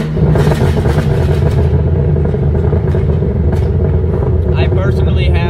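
An Infiniti G35 engine runs through Motordyne art pipes, a Z1Y pipe and a Tomei catback exhaust, giving a loud, steady, throaty drone with rumbling low-end clatter that holds for several seconds.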